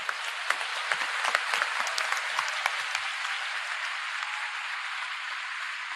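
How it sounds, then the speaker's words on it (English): An audience applauds steadily at a Sri Venkateswara Vaibhavam devotional event, a dense, even patter of many hands clapping at moderate distance with no voices over it. "Big round of applause."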